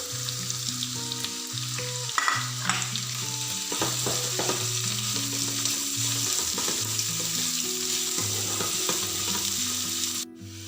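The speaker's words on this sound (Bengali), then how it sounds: "পেঁয়াজগুলো লাল করে ভেজে নেব" Three large onions fry in oil with cumin until reddish, a steady close sizzle with occasional stirring clicks running throughout, over background music and without speech.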